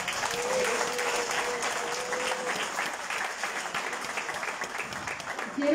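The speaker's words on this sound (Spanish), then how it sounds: "desde acá vamos a mandarle un aplauso y las buenas vibras" An audience applauds at a PRI municipal committee swearing-in ceremony in Izúcar de Matamoros, a steady round of moderate clapping that swells slightly at the end.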